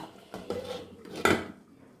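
Boiled eggs being mixed into a chilli-free egg curry in a pan, then covered: a few sharp clanks of a metal spoon and lid against the pan, the loudest near the end, separated by quiet gaps.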